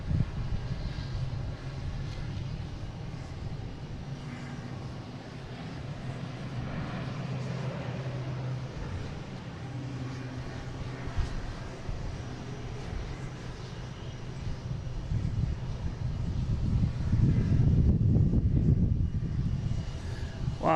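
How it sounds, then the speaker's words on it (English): A JetBlue Airbus A320 arriving at Boston Logan International Airport, its engine roar a steady broad rumble that swells louder toward the end as the jet draws near. "Got a JetBlue coming in from Bozeman. A320"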